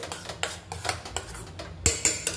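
A spoon scrapes and clinks against a pan as mango pulp is continuously stirred and sautéed over low heat for mango barfi, giving close, irregular metallic taps about every quarter second.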